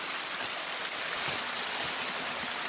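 Water flowing in a small stream, a steady moderate hiss and babble without pauses or voices.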